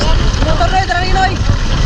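A small fishing boat's motor drones steadily nearby, a continuous low rumble mixed with wind noise, with someone speaking over it.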